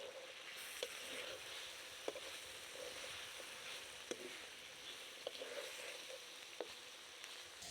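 Hilsa fish pieces are added to a simmering spice paste with oil in a pan, giving a steady quiet sizzle with a few sharp clinks and pops spaced through, no voices.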